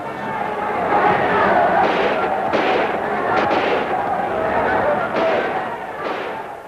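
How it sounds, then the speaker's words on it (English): British troops fire rifle volleys over a crowd, heard as a continuous dense crackle of shots and booms mixed with crowd noise, loud and sustained throughout. "British troops attempt to quiet the crowd by volleys fired over their heads"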